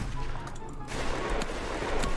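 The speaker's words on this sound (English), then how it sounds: "I'm being shot!" Gunshots in the Roblox Wild West game, dense loud bangs packed together in a short burst of noisy fire.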